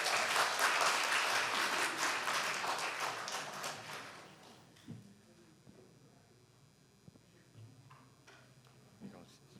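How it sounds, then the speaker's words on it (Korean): Strong applause from a church congregation at a Sunday worship service fills the first few seconds, then fades out, leaving a quiet room with a few scattered taps and small knocks. "우리 나올 때 큰 박수 부탁드리겠습니다."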